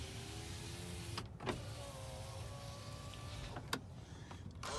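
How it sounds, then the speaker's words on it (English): Electric window motors whir on the cab of a 1998 Toyota Regius Hiace camper conversion fitted with wind deflectors: two steady runs of motor drone, each ending in a sharp click as the glass stops, heard close and alone. "Electric windows with wind deflectors."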